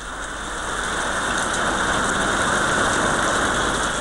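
Heavy rain in Kerala falls in a dense, unbroken hiss that holds steady and slowly builds, with no voices heard.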